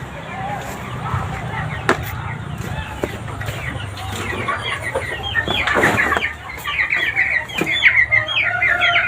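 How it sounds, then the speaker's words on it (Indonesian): Laying hens of Wyandotte and other breeds cluck and squawk in a pen, a busy chorus of short calls that grows livelier toward the end, with people talking underneath. "kita juga mengembangkan ayam petelur handal dari luar negeri"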